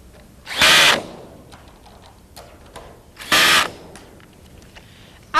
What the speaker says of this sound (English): fasten them securely using a cordless power drill with a Phillips head